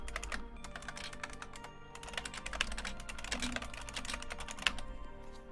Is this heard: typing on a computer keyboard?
yes